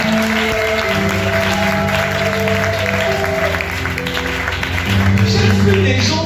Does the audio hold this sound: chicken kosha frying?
no